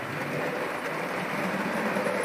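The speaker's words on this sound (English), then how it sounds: "Meanwhile, the Thomas train is still going round continuously." A Thomas model train runs continuously around a home layout track, producing a steady whirring motor hum with a faint rolling rattle, close and constant throughout.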